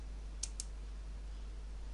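Two quick, crisp mouse clicks in close succession over a steady low hum, with no voices.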